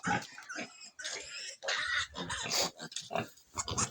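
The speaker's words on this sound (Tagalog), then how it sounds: "Dito po yung kanyang mga biik, mga anak." Newborn piglets from a pet pig's fresh litter squeal and grunt in a busy, overlapping chorus of short bursts, close by and fairly loud throughout.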